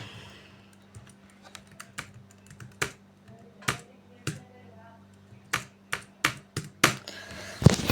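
Typing on a computer keyboard: irregular bursts of sharp keystroke clicks over a low steady hum, sparse at first, then louder, quicker clacks piling up toward the end.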